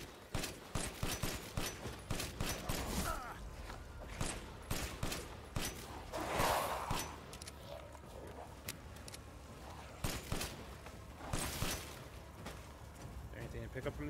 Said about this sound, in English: See how the pistol goes.